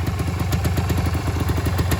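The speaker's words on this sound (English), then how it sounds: "Really quiet engine, which that tallies with the mileage on the bike. It really is. It ticks over lovely." Rare two-stroke trail bike engine idling steadily after a first-kick start with no choke, a quiet, even ticking putter with light mechanical clatter, close and continuous.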